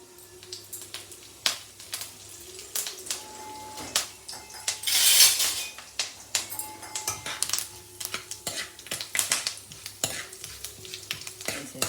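Urad dal, chana dal, cumin seeds and curry leaves crackle and sizzle in hot oil, with repeated stirring scrapes and light utensil clinks against the pan, plus a louder sputtering burst midway.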